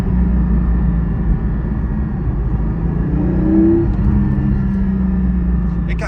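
Stock exhaust of a Porsche GT4 downshifting while slowing for a red light, a steady low engine drone with a brief rising blip of revs midway, heard from inside the car.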